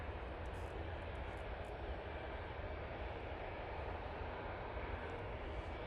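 A TUI airliner taxis along taxiway Tango at Manchester Airport, producing a faint, steady, distant jet engine rumble and hiss with no change in level.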